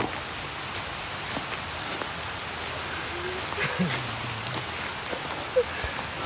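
Steady rain hisses outdoors on a forested hillside, a constant wash of close patter throughout, with faint voices and a brief rustle or two beneath it.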